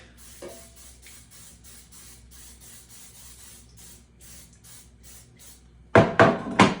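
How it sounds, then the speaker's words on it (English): After a quiet stretch of faint rustling, three short bursts of aerosol cooking spray hiss sharply and close by, coating a 9x13 baking pan. "Spray the bottom of the pan."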